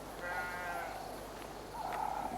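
Sheep and lambs bleat on a farm, two drawn-out wavering calls a moment apart, fairly faint and distant over a hissy outdoor background with no talking.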